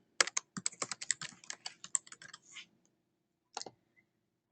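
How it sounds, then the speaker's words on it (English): Someone types an email address into a web form on a computer keyboard: a rapid, close burst of clicking keystrokes, a pause, then a few more taps. No talking. "Now if I type in my email address here"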